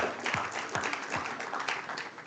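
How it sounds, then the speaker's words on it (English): An audience at a student developer club tech event claps in continuous, dense applause, with a few sharper individual claps standing out. "A big round of applause."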